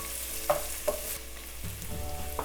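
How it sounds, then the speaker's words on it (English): Potato, peas and carrot curry ingredients sautéing in a pan, a soft, steady sizzle with a few light clinks of a spoon stirring, close and quiet. "Let it saute for a couple minutes."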